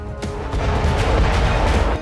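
A vacuum bomb detonating in Bakhmut during the Russia-Ukraine war, heard as a sudden blast that swells into a heavy, low roaring rumble lasting about two seconds before cutting off.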